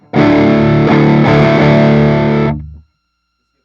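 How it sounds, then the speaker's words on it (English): Electric guitar played through a clean boost pedal with the volume turned up, a loud sustained strummed chord ringing for over two seconds before being cut off into silence. "So that's what a boost pedal does, is it adds decibels to your signal."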